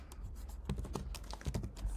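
Typing on a computer keyboard, a quick irregular run of soft key clicks, close and quiet.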